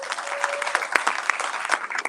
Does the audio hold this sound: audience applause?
yes